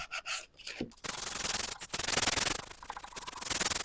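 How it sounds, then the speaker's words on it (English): Hand sanding of painted wood furniture, a steady rasping scrape in long continuous strokes with brief pauses between passes, close and fairly loud with no talking. "So I'm just going to do a sanding before putting some wax on."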